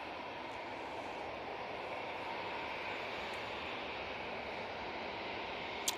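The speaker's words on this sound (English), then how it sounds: "Lovely touchdown from the TUI." A TUI airliner touches down at Manchester Airport, heard from a distance as a steady broadband roar of engines and rushing air that holds level throughout, with no voices.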